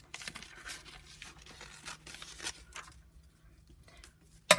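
Century-old book paper being cut and torn in a few short crisp rips and crinkles, close and fairly quiet, with a sharp snip at the very end.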